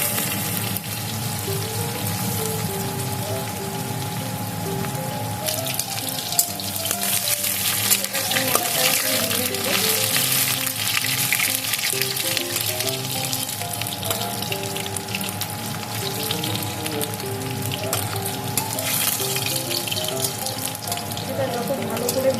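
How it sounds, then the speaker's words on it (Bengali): Bitter gourd frying in oil in a kadai sizzles in a continuous crackling hiss, with occasional stirring scrapes, steady and moderately close throughout. "প্রথমে আমি উচ্ছেগুলো ভেজে নেব। লাল লাল করে ভেজে নেব।"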